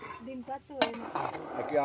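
Cooking pots and vessels being handled and lifted in a home kitchen; metallic clinks and scrapes ring close, with one sharp clank partway through, while voices murmur faintly alongside.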